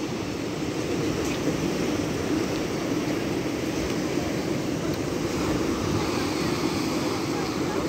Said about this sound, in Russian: И волны сильные.